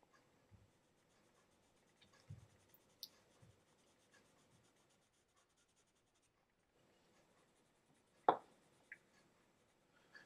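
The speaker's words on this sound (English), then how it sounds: "I'm going to use the side of my pencil to shade in the pentagons." A pencil held on its side shades pentagons on paper, giving a faint, soft scratchy rubbing with a few louder taps and scrapes in a quiet room.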